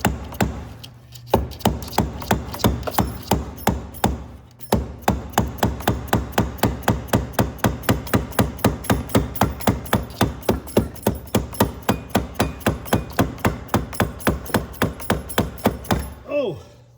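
A hammer knocks on the interior panel of a 1993 Chevrolet S10 pickup truck in rapid, evenly spaced blows, loud and close, after a few slower opening strikes.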